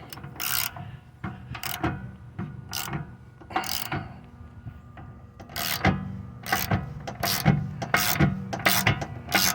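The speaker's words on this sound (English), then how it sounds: "Start it with your ratchet." Ratchet clicking steadily as it turns a bolt on a rear wheel hub of a 2003–2005 Honda Pilot AWD, a run of close, loud pawl clicks in bursts with brief pauses between strokes.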